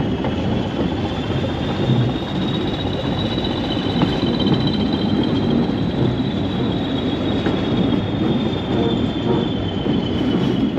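Two 1966-built diesel locomotives rumble steadily past at close range on a heritage railway, wheels squealing in a long high whine over a heavy, constant roar.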